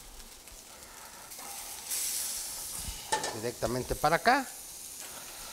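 A tortilla fries in adobo sauce for enchiladas, giving a steady, soft sizzle with a brief louder hiss as it settles into the pan, and someone speaks over it toward the end.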